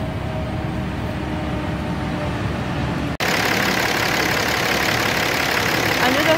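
A Ram 3500 truck's 6.7 liter inline-six engine idles with a steady rumble, with a brief cut midway before the low mechanical drone resumes slightly louder.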